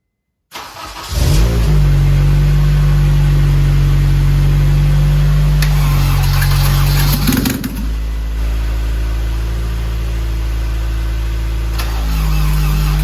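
A car in a home garage cranking and catching after a jump start, then settling into a loud, steady close idle that dips briefly and carries on running with no talk.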